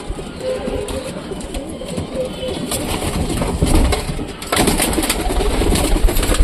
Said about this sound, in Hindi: ये देखो यार क्या मस्त कबूतर है